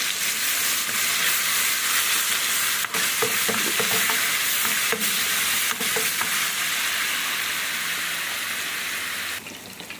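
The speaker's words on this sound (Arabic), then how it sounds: "وبعد الدهن ما تسيح تنزلي عليها بمعلقه كبيره من الثوم" Garlic frying in melted fat for Egyptian molokhia, a loud, continuous close sizzle with a few clinks of a spoon stirring through the pan.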